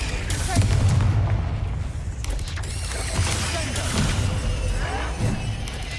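Confringo spell blast in Hogwarts Legacy, loud booming impacts and crackling bursts layered over dense combat noise, with a voice speaking through the din.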